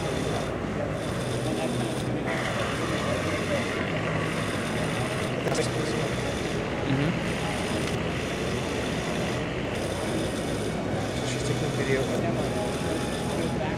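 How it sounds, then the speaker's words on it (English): An airplane with engine trouble in a LEGO WeDo scenario video sounds as a continuous, loud, rough grinding drone with a rasping texture that stays steady from start to finish. "Here the airplane is having engine trouble."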